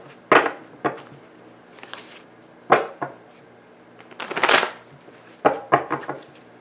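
Tarot cards shuffled by hand close up, in several short papery bursts of riffling and shuffling separated by brief pauses.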